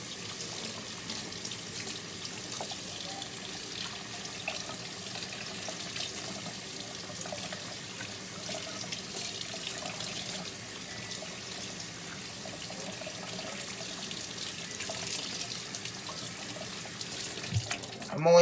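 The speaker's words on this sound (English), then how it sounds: "I'm only washing my hands because I want to move." A tap runs steadily while hands are washed at an indoor sink, a continuous splashing water flow heard close by for the whole stretch, with a brief clunk at the end.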